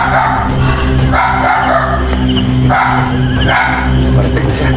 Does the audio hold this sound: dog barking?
yes